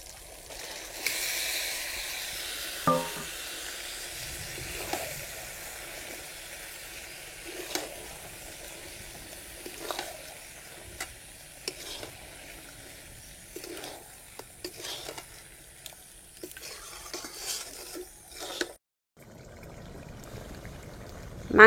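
Duck meat is added to spice paste frying in oil with turmeric and stirred. A soft, steady hiss runs under intermittent scrapes and knocks of the spoon, and it cuts out briefly near the end.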